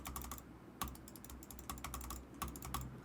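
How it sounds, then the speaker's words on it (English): Close, rapid computer keyboard typing and mouse clicks with uneven clicks and a few sharper taps, steady throughout with no talking. "Here is some keyboard noise, mouse clicks,"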